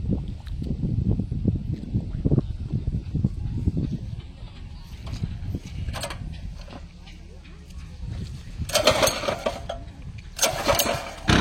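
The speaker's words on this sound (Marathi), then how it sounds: "चालू करा." A power tiller fitted with cage wheels for puddling a paddy field starts up and rumbles unevenly, with sharp clattering bursts later on, while people talk nearby.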